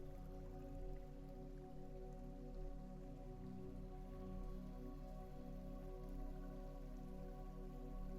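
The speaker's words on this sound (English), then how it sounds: "The rain continues through the evening." Soft rain patters continuously against glass, quiet and steady, with faint drips over a low background hum.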